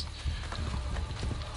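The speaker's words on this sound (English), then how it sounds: "Why'd I just call my horse?" Horse hooves in the video game Assassin's Creed: Brotherhood clip-clopping in a steady trotting rhythm over a low, rumbling background, fairly close and continuous.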